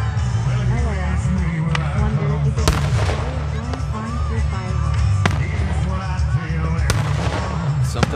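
July 4th fireworks burst repeatedly nearby and far off, sharp cracks and booms over a continuous crackle and rumble, with people talking faintly in the background.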